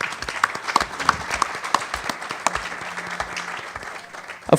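Audience applause in a room after a whisky-aging seminar, dense, fairly loud clapping from many hands continuing steadily, with a brief voice near the end.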